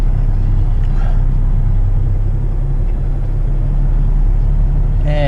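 Truck stop ambience at the Truckers Inn in Sauk Centre, a loud, steady low engine rumble of a heavy truck filling the scene, with faint background sounds and a brief voice near the end.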